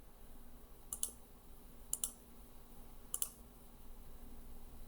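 Three quiet pairs of computer mouse clicks, evenly spaced about a second apart, sound close and crisp against a faint hum in a quiet room.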